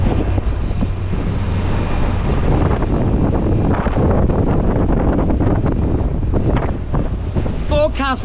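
Strong wind, around 20 knots, buffets the microphone in a constant, heavy roar aboard a Lagoon 42 catamaran at sea. Faint sounds of water and a brief chirping squeak come near the end.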